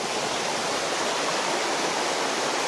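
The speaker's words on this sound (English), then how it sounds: "it's great, this sound of rushing water" A stream in Hardcastle Crags rushes in a dense, steady broadband roar, close and unbroken throughout with no voices.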